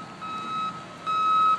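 A cement truck at a construction site sounds its reversing alarm, two loud, steady electronic beeps separated by a short gap, over a low rumble of background noise.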